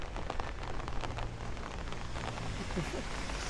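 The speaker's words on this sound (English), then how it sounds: "this rain is ending" Steady rain from a severe thunderstorm in Bensonhurst, Brooklyn patters on a hard surface, a constant close hiss with scattered drops, a faint voice briefly beneath it.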